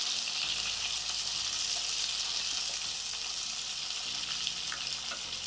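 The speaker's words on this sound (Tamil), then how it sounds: "இப்போ பூண்டு, கத்திரிக்காய் இது ரெண்டுத்தையும் நல்லா வதக்கிக்கலாம்" Garlic and brinjal pieces sauté in a pan, giving a steady, dense sizzle with faint stirring and no talk.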